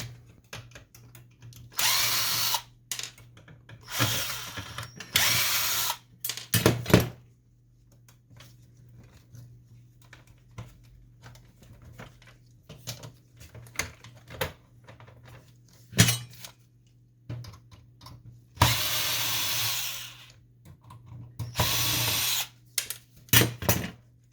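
A power drill whirs in several short bursts while backing screws out of an HP Photosmart C6150 inkjet printer during teardown, loud and close, with quiet pauses and small handling noises between runs.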